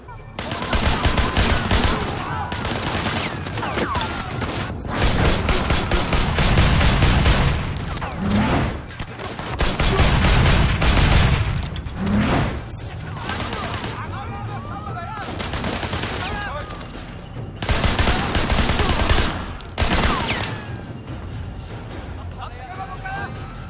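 Dense bursts of police gunfire in the game Sleeping Dogs crackle loud and near in rapid volleys across the whole stretch, with a voice talking over the shooting.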